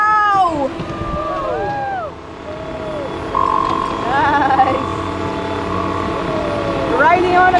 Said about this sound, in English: Riding on a car with sounds, and I have a driver here